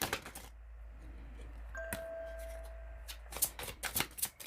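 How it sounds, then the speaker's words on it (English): Tarot cards riffle and flick in short bursts during a séance-style reading, with a brief electronic tone sounding in the middle; crisp, close and fairly quiet. "I'm gonna keep shuffling"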